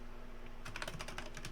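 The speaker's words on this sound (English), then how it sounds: "We'll just have to type it in manually." Code is typed on a computer keyboard in a short quick burst of soft, close keystrokes over a steady low background hum.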